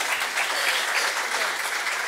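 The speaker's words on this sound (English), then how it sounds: "Don't clap for me, clap for Alonzo" An audience at a programming conference talk bursts into steady, loud applause, a dense continuous clatter of many hands with no voices over it.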